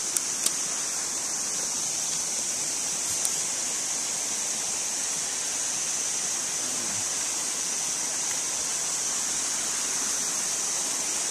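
A stream babbles through a sunlit forest with a larger river below, a steady wash of running water heard alongside a constant high, shrill cicada drone.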